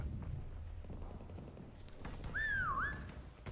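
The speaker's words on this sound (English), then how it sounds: "that was such a whistle." In Call of Duty WWII prop hunt, a single bright whistle dips and rises briefly near the end, over faint gunfire and game noise.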